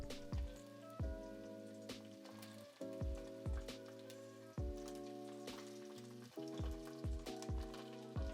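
Food frying in plenty of olive oil in a pan, a faint crackling sizzle punctuated by repeated sharp taps and scrapes of a utensil, quiet and close, without speech.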